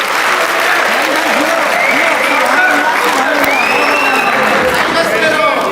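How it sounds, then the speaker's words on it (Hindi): An audience at a Sindh mushaira poetry gathering breaks into loud, sustained applause and cheering, a continuous roar of clapping with crowd voices mixed through it. "आप एक भरपूर ताली इश्काबाद के लिए बजाइए"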